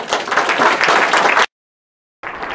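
An audience breaks into loud, close applause to welcome a speaker. The clapping runs for about a second and a half, then cuts to silence and resumes briefly.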